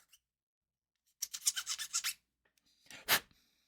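Small plastic Gunpla model part being sanded by hand, a quick burst of several close rasping strokes, then a pause and one more short, louder scrape, with no talking.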